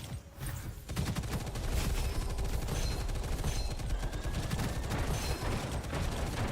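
Sustained enemy gunfire in a shooter video game, a dense continuous fusillade of rapid shots that starts after a brief lull and keeps rattling loud and close for several seconds.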